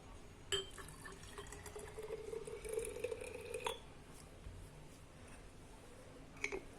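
Liquid soap and myrrh infusion sloshing inside a glass bottle, with watery gurgling, a sustained glassy ringing tone and a couple of light knocks against the glass, fairly quiet and close.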